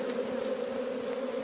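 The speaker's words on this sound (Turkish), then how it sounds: "Şöyle arının gücünü göstereyim size." Dense, steady buzzing of a large honeybee swarm close by, a continuous droning hum with no talking.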